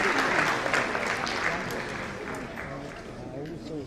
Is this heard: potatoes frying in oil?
no